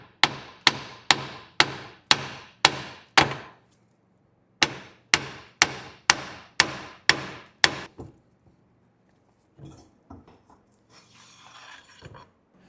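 A hammer strikes the back side of a Jeep JK axle shaft to free it: two sharp bursts of about seven metallic taps each, evenly spaced and close, followed by faint handling clatter.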